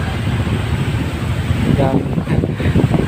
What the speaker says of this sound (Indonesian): Anginnya banter